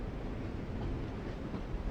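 Train ambience from The Walking Dead video game: a steady, low rumbling hum of a rolling railway car, continuous and even with faint clattering texture, no voices.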